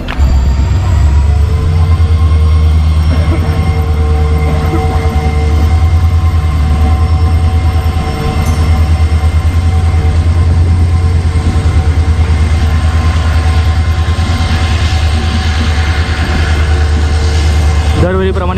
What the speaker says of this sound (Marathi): आपले मांडवी ट्रेन आले